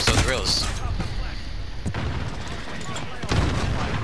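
Gunfire in Call of Duty Modern Warfare, a few loud heavy blasts spaced across the moment with a sharp crack near the middle and another near the end, over a busy game soundscape.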